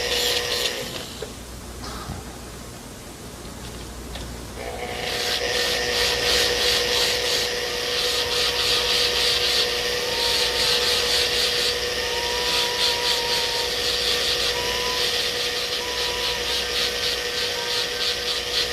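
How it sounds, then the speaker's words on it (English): A metal wire brush scrubs the skin off the occlusal surface of a dental casting, a continuous abrasive rubbing and whirring that grows louder and steadier after a few seconds and holds without talk. "remove the skin off the occlusal surface with a metal wire brush"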